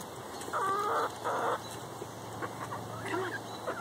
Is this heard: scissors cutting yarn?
no